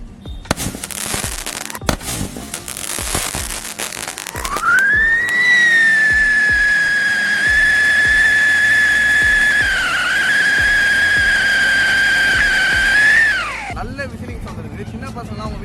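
A musical firecracker set on a stand gives a few sharp pops and crackles, then a loud sustained rising whistle that holds for several seconds before cutting off, followed by scattered crackling.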